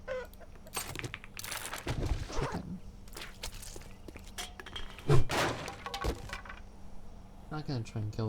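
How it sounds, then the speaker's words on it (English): A chicken in the survival game 7 Days to Die clucks in a few short bursts near the end, amid footsteps, thuds and a person talking. "Not gonna try and kill the chicken"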